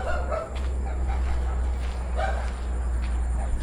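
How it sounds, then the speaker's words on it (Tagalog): A dog barks a few scattered times at some distance over a constant low hum, with quiet movement nearby, in an abandoned subdivision at night. "maingay yung aso"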